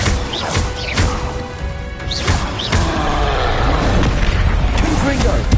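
Blasts from a fire spell in Hogwarts Legacy, heavy booming crashes and whooshes recurring roughly every second or two over constant battle noise, with a voice speaking amid them.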